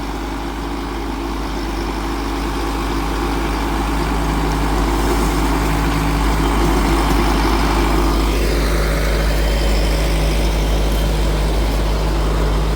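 A Sonalika Tiger 75 CRDI 4WD 75 hp tractor engine runs loud and steady while driving a PTO mulcher through banana plants. It makes a constant heavy rumbling drone with no talking.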